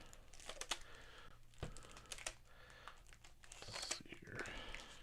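Individual plastic bags crinkle and rustle as graded 1914 Fatima trading cards are unpacked, close and continuous with scattered sharper crackles.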